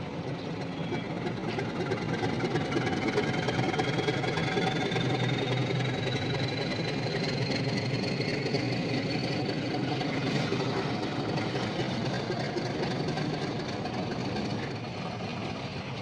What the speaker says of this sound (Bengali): বেরিয়ে গেল টয় ট্রেনটা